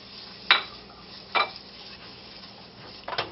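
Garlic goes into a pan of browning tomato paste, three sharp metallic clinks of utensil against pan over a soft low sizzle.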